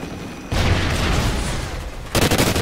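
Gunfire in Call of Duty: Ghosts during a Juggernaut match, a dense, loud burst of rapid shots and booms that runs continuously, then a second sharp cluster of staccato reports near the end.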